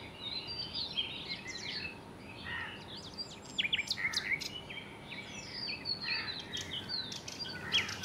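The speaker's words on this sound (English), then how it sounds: "The bird song reaches a crescendo, filling the ear with an eternal chorus." Several birds sing and chirp in a forest at twilight, a dense layered chorus of high trills and whistles close and farther off, growing busier toward the end over a soft ambient hum.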